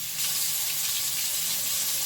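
A sensor-operated kitchen faucet runs water into the sink in a steady, bright hiss that holds evenly for a couple of seconds, close and alone.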